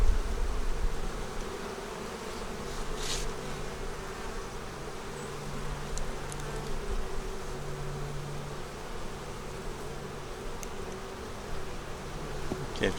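Honey bees hum steadily at an open hive during cold-weather feeding and care. The dense, continuous buzz stays close and even throughout, with occasional faint ticks of handling.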